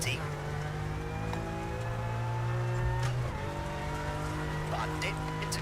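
A Toyota Yaris rally car in the WRC game on the Safari Kenya stage, its engine droning steadily at high revs throughout, with a pitch swell midway and tyre noise, all under a running voice.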